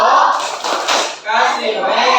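A classroom group claps together in a rhythmic cheer clap, loud and close, with the beat running steadily under mixed voices across the whole clip.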